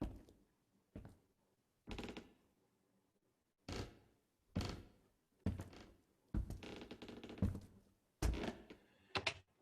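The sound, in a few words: Foley footsteps with added floor creaks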